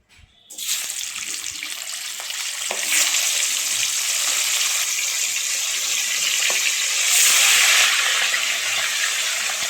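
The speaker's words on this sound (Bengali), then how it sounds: "এই আলু ভাজার তেলেই আমরা মাংসগুলোকে ভেজে নেব।" Chicken pieces fry in the oil left from frying potatoes, a loud continuous hiss and sizzle that flares up after a sudden start and holds steady, with no talk.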